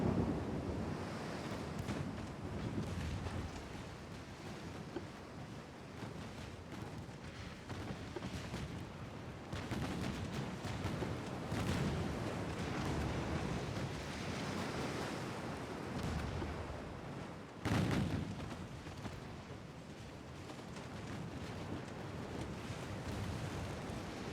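Naval gunfire from the video game Ultimate Admiral: Dreadnoughts, a sustained roar of sea and wind punctuated by several deep booming shots, one especially sharp blast near the end, with no voices.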